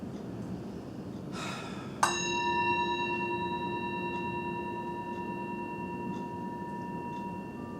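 A single hand bell struck once at a wellness workshop, its clear metallic tone ringing out and slowly fading over a faint, steady room hush.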